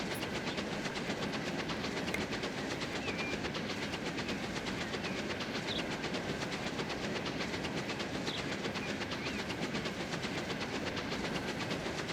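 A steam-era train in Transport Fever 2 climbing the final uphill gradient into Edinburgh Waverley, a steady faint rumble with rhythmic clickety-clack and soft hiss, continuous and unbroken.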